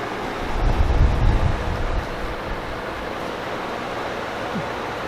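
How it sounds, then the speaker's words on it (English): Parts washer running in a tool shop, a steady broadband wash and hum that stays constant throughout, with a slightly louder low rumble near the start and no talk over it. "Parts washer, excuse the noise"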